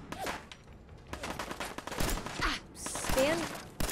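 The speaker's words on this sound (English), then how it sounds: "Why are you guys shooting me?" Enemy gunfire in the Fallout 4 video game, a rapid scatter of sharp shots and bursts, fairly close, with someone talking over the shooting.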